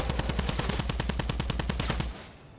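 Rapid automatic fire from the Sunbeam Fire Typewriter, a ranged weapon in Fortnite, rattles off in a steady fast burst of evenly spaced shots for about two seconds, then cuts off abruptly, leaving a brief fading tail.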